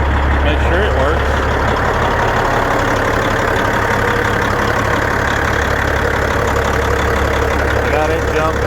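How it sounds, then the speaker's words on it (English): A Peterbilt 379 truck sits with its engine fan running, giving a loud steady low drone and whirr close by, continuous and unchanging throughout with no breaks. "I need to test the engine fan, make sure it works."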